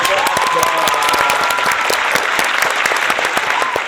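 Steady, dense applause from an audience at an Indonesian school program featuring SMA Al-Islam Krian students, with many hands clapping evenly and loudly for the whole stretch without letting up.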